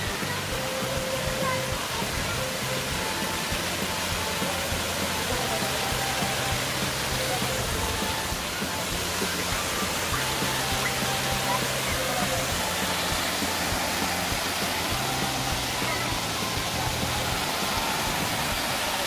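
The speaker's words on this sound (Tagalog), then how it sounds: "kung makikita nyo, is meron doong falls" A mountain waterfall on Gwanaksan rushes in a steady, even wash of white noise that stays constant throughout, filling the scene without any break.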